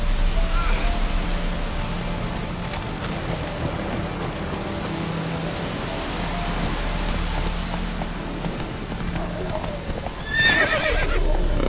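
A horse galloping in The Witcher 3 makes loud, rapid clip-clop hoofbeats over a dense rushing background, with a brief neigh-like burst near the end.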